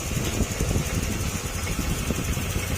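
A Honda Click 150 scooter with an overheating problem runs at a steady idle, its engine a close, continuous rumble with no talk over it.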